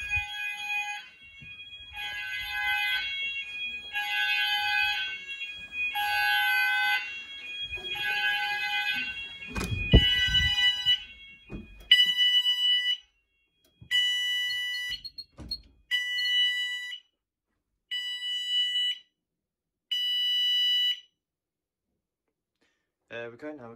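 An Apollo XP95/Discovery fire alarm system under test in a house, its sounders giving repeated loud electronic tones in steady bursts, first continuous then pulsing on and off, with a brief clatter midway and a short gap at the end.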